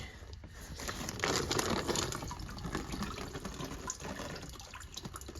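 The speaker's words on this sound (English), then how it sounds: "We'll change this water out." Water pours and splashes steadily while soaking water for a no-boil European skull mount is changed, with faint drips and crinkling handling noises, quiet and close with no talking.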